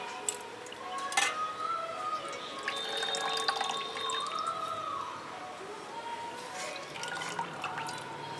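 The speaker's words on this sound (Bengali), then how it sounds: "মাছগুলো মাথাগুলো ছাড়িয়ে ফেলে দিয়েছি সুন্দর করে ধুয়ে নিলাম" Peeled prawns being washed in water, with drips, small splashes and light clinks of a bowl heard close by for several seconds.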